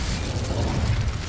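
An Incendio fire spell is cast in Hogwarts Legacy: a short, loud, dense whooshing burst of flame with a rumbling low body, lasting just over a second.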